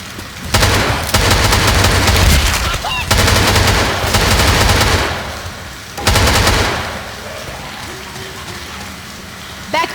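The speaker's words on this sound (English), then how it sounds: "I'm gonna shoot the shit out of it." Sustained automatic gunfire in Left 4 Dead 2, aimed at a jockey during the rainy Hard Rain Milltown level, comes in long loud bursts separated by brief pauses, with rain and game ambience underneath.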